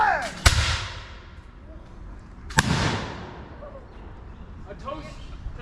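A ragged musket volley from the second section at an outdoor firing demonstration booms out in one sharp report with a long fading rumble, followed by a second loud crack and echoing tail.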